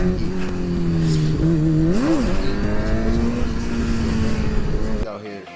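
A Yamaha R7 motorcycle engine drones loud and close with a steady rev, pitch rising briefly mid-clip, on a street during wheelie practice, then cuts off abruptly near the end.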